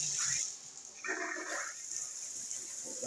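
Water runs steadily from a bathtub spout after it is turned back on, making a continuous close rush and splash with slight shifts in tone throughout.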